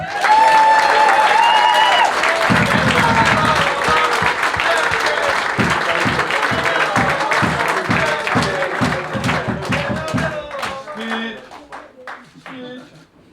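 An end-of-season awards audience for AFC Wimbledon applauds its winners, a loud full room of clapping with some cheering, thinning toward the end into a few scattered claps and voices.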